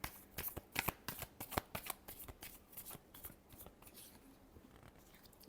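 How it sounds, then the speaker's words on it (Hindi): Tarot cards being shuffled by hand, a quick run of crisp riffling snaps and flutters close up, fading to softer rustles near the end with no talk. "Last shuffle."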